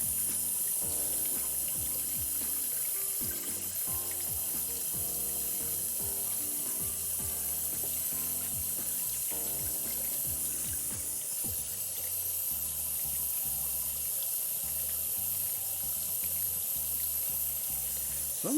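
Tap water runs steadily into a sink, a continuous close hiss and splash lasting throughout, with music playing underneath.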